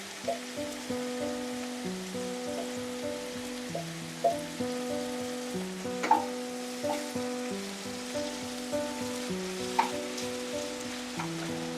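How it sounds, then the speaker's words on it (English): Masala for a Goan egg curry sizzles and crackles in a hot pan with green chilies, a steady close frying hiss scattered with small pops and a few louder spits. "Now we will fry our masala."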